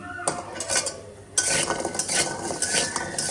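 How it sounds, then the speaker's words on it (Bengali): Pitha cakes frying in oil crackle and sizzle in a pan while a utensil scrapes and clinks against the metal as they are turned, busy and fairly close. "এখন একটু সব জায়গায় তেলগুলো ঘুরাই ঘুরাই ভেজে নেব সুন্দর করে।"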